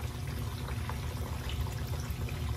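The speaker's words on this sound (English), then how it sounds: "if I take this optical sensor and I submerge it in water" Water sloshes and trickles softly as the optical sensor of a failing Tunze Osmolator Pro top-off unit is submerged, with a low, steady pump hum underneath throughout.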